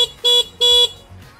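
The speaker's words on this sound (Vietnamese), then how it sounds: "Và bên dưới chúng ta sẽ có phím cơ bản, còi xe." Horn of a DK Roma SI electric scooter, 2022 model, giving two short electronic honks in quick succession, each a steady bright tone, loud and close with nothing else around.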